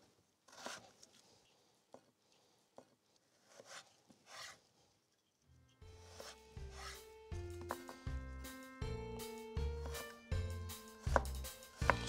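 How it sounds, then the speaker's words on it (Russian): A knife dices beetroot into small cubes on a board, with sparse, faint chopping taps at first, then denser rhythmic cuts joined by louder tonal background sound. "аккуратно просто нарезаю свеклу мелким кубиком"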